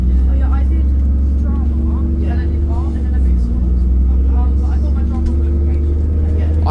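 ADL Enviro 400 Trident double-decker bus, ex Arriva London, idling with a deep steady engine rumble close by while other traffic passes.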